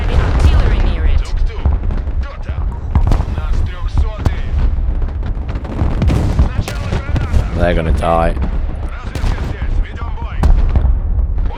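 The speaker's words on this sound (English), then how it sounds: "Artillery! Take cover!" Artillery fire in the Broken Arrow war game, a loud, dense barrage of booming blasts and sharp gunfire cracks that keeps going without a break, with shouted voices over it.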